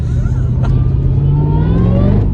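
A Mercedes E55 AMG drives along with a steady low engine drone, rising gradually in pitch as it gently gains speed, loud and close from inside the car.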